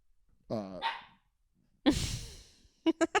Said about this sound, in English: He just barks for no reason sometimes.